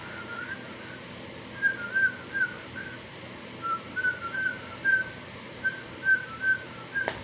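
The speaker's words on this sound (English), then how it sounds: "I gotta start whistling more. My whistle is kind of low." A person whistles a low melody in short, separate notes with small pauses between them. The notes are soft and carry over a quiet background hiss.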